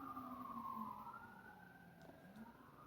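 Emergency vehicle sirens wail in long rising and falling sweeps, faint and distant, sustained for the whole stretch with no voices.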